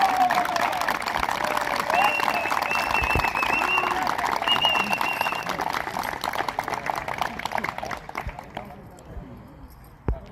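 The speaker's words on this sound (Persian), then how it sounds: "تشویقشان کنید." Audience applause rolls on at an award ceremony, dense clapping mixed with crowd voices and a few whistles, gradually thinning and fading out near the end.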